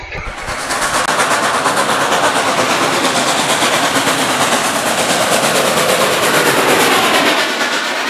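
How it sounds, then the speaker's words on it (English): Model trains run around a club's model railroad layout, a dense continuous rushing and clattering of wheels on track with a faint rhythmic clickety-clack, close and steady throughout. "Now let us watch the trains run around the layout."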